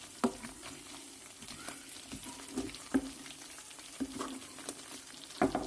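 Cream simmering in a pan as desi ghee separates out, a steady crackling sizzle with scattered louder pops and the occasional stir, close and alone with no talk.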